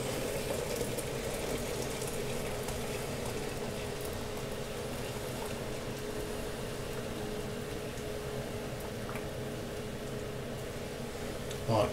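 Freshly boiled water poured from a kettle into a vessel for homebrewing, a steady, continuous splashing and trickling stream at close range.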